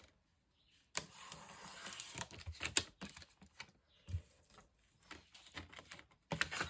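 A trimmer cuts along the edge of a laminated sheet in a craft session, giving a series of quiet, irregular clicks and short scraping slides separated by brief pauses.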